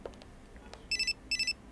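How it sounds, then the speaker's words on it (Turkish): A faint electronic phone ring trills in short repeated bursts, quiet and somewhat distant. "Telefon çalıyor, duymuyor musun?"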